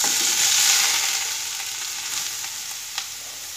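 Grated carrot sizzles steadily in hot melted ghee in a wok, a dense continuous frying hiss that eases slightly over a few seconds, with a faint stir or tap near the end.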